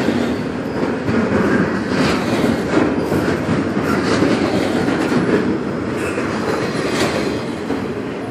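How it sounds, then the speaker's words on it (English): A Norfolk Southern train, NS 214, rolls past in Charlottesville, Virginia, giving a steady close rumble with rail clatter and faint wheel squeal throughout, and no voices. "Oh wait, here's the end of the train."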